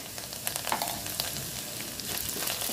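Lentils (dal) sautéing in a pan with fresh coriander, a soft steady frying crackle with a few faint stirring scrapes, heard alone.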